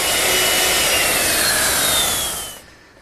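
A router cuts along the edges of a wooden chaise lounge rail and legs, a loud high whining rasp that holds steady, then spins down and cuts off near the end.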